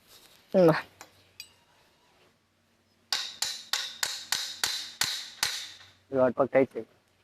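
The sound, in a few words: hammer striking scaffolding pipe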